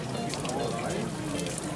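Holy water pouring from a fountain in Sarajevo, a steady splashing trickle that runs continuously, fairly quiet and close, with background voices in the clip.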